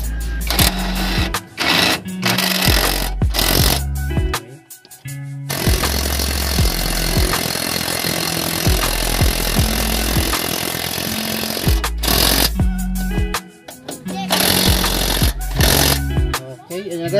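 An impact wrench fires in repeated loud rattling bursts on the undercarriage of a 2007 Mazda3, with one long sustained run in the middle and short pauses between bursts.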